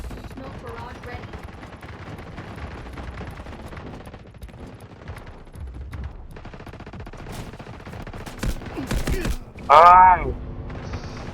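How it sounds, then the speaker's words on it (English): Gunfire and artillery fire from an artillery barrage in the Delta Force video game: steady rattling shots over the full stretch, with louder bursts near the end and a voice talking over the battle. "Artillery barrage ready."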